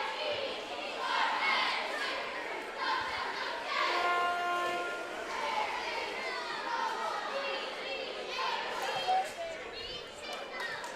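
Crowd noise fills a high school gymnasium during a short 30-second timeout in a boys varsity basketball sectional final, a steady din of chatter and children's voices throughout.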